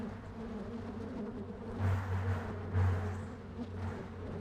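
Honey bees buzz inside a hive being checked before winter, a steady dense hum with two louder swells, close and continuous with no talking.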